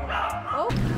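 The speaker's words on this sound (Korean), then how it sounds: "그래서 원래보다 더 많은 강아지들이 있었어요." Several dogs at a busy dog cafe, a small yip and bark standing out near the end over a noisy room, with voices talking.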